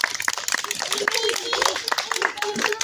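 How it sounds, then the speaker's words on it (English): Children clapping in a classroom during an English alphabet sounds lesson, a quick burst of uneven claps at close range, mixed with young voices and bustle throughout. "give me a clap."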